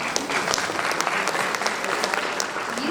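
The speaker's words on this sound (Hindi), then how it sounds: "तालियों से एक बार" A crowd at the Haldwani Literature Festival applauds a book launch with brisk, continuous clapping from many hands, close and lively, with individual claps popping out of the wash.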